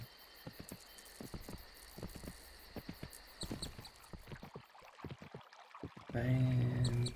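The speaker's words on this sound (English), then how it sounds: "And here's the undead horse." An undead horse in the video game Kingdom New Lands moves along with a run of soft rhythmic hoof thuds over ambient game music, ending in a louder sustained tone.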